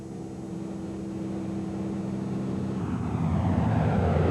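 A Focke-Wulf Condor propeller aircraft drones steadily, its engine hum growing louder and rougher toward the end as it draws closer.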